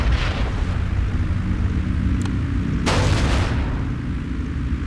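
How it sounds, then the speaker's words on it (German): Heavy rumbling explosions in the video game Star Wars Republic Commando roll on continuously, with sharp cracking blasts cutting through the din, loud and close. "Da sind Explosionen."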